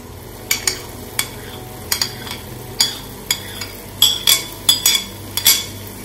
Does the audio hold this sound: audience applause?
no